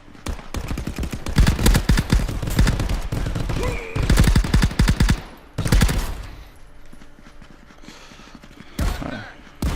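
Rapid bursts of gunfire ring out in a VR shooter game: several dense volleys of sharp shots, separated by short quiet gaps, with a few scattered single shots near the end.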